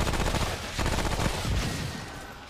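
Rapid ricochet rifle gunfire in a video game, a dense continuous burst of shots lasting throughout, loud and close with no talk over it.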